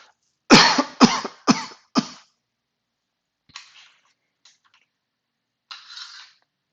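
Four quick harsh coughs in a row, close and fairly loud, then a few faint breaths and small rustles.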